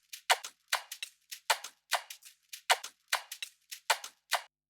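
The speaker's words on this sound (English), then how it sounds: "every Afrobeat song have the same shakers" Standard Afrobeat shakers play alone in a bright, crisp rhythm, with short bursts repeating evenly and about three strokes per beat, close-up and moderately quiet.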